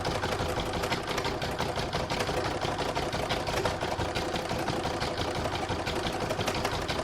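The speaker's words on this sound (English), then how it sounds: "pop that back in my machine and stitch round 3, and that's going to do the quilting stitching" A home sewing machine runs steadily, stitching quilting lines through a single-fabric Christmas star block, its rapid mechanical whir continuous and close with no talking.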